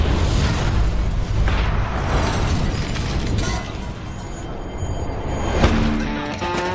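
A dramatic explosion scene from The Punisher TV series: a dense, sustained roar of rumbling blast and debris that fills the whole stretch, swelling and easing slightly, with a sharp burst near the end.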